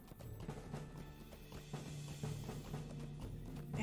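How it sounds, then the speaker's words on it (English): Horse hooves clip-clop at a steady galloping rhythm in Lord of the Rings Online, a continuous mid-level patter layered over ambient game music with no talking. "You can't keep up with my horse"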